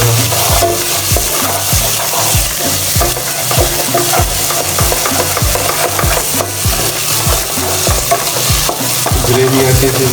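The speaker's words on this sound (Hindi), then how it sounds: "तो हम इसको अच्छे से मिलाएंगे और हल्दी को पकाएंगे थोड़ा सा।" Turmeric frying in a pan while chickpea madra is made: a spoon scrapes the pan in steady regular strokes over a continuous close sizzle, with no voices.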